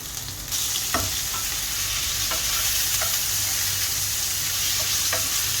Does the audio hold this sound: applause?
no